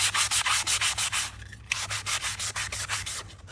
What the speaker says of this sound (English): People don't like the sanding sound, so sorry.